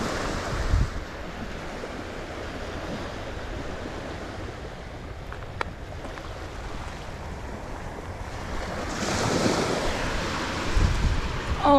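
Small ocean waves wash onto a Fort De Soto beach, a soft continuous surf hiss with gentle swells and some wind buffeting the microphone, without talk.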